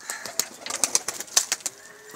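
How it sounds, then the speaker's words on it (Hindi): Pigeons in a loft flapping their wings in quick, sharp bursts at close range, with soft cooing in the background. "चलिए आइए फिर आपको बेग कबूतर की आईडी वाले मिर्ज़ा जुनैद बेग उनके जोड़े दिखाते हैं।"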